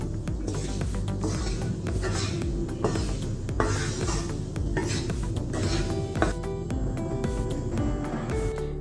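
A spoon scrapes and clinks against a pan while spicy crispy prawn fry is stirred, a steady busy rhythm of metallic scraping and tapping lasting throughout, close and fairly loud.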